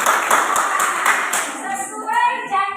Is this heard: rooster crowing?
no